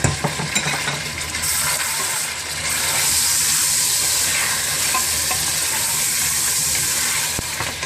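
Meat frying in a pot with ginger garlic paste makes a loud, continuous sizzle, with some stirring clatter near the start and no speech.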